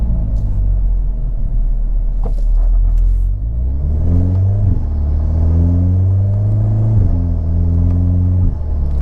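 A Hyundai Veloster N with an 8-speed dual-clutch transmission accelerates hard, its engine droning loud and close as the pitch climbs and then drops sharply with each of two quick upshifts, with a low road rumble underneath.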